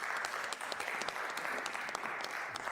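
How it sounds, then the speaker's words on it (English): Audience applause welcoming a panel onto the stage at a sustainability forum, a steady dense wash of many hands clapping throughout, fairly near and even, with no talk over it. "Dan, a big round of applause."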